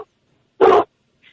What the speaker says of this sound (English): I've got a dog that's barking here.